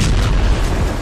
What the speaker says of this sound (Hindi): रूस की मिसाइलों ने कैसे यूक्रेन की बारूदी ट्रेन को धमाके से उड़ा दिया है